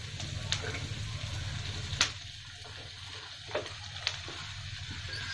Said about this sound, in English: we are going to add the cabbage.